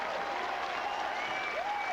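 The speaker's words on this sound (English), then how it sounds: "And this crowd is on its feet." A bowling crowd at a 1997 PBA Masters semifinal applauds steadily after a 300 game, with dense continuous clapping and cheering and a whistle rising over it.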